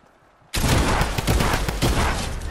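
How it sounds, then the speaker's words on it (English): Video game gunfire bursts in abruptly after a quiet moment, a dense, loud rattle of rapid shots continuing without pause to the end. "someone else was shooting me"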